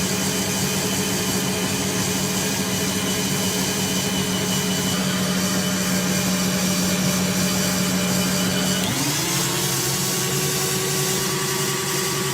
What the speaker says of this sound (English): You can really tell the drill's working a lot harder.